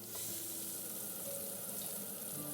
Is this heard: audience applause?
no